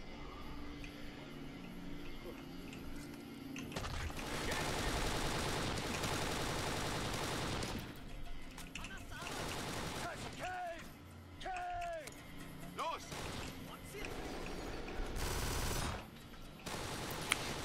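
Gunfire in the video game Kane & Lynch 2: Dog Days: repeated loud bursts of automatic weapon fire and sharp shots, interrupted by short quieter gaps.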